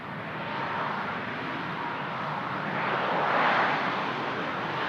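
A Boeing 737 landing at Toronto Pearson airport gives off a steady, moderately distant jet rumble that swells slightly toward the middle and carries on without anyone talking.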